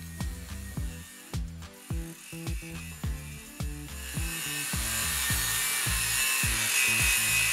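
A file is worked by hand across the root face of a 10mm mild steel plate being prepared for a butt weld, giving a steady rhythm of rasping strokes, then a rising continuous hiss toward the end.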